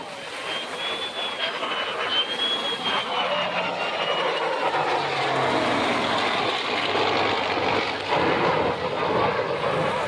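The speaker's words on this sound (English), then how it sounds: "the prop plane is going to full bore" A P-51 propeller plane at full throttle during a heritage flight, a loud sustained engine roar with a rising and falling whine as it passes, steady throughout without a break.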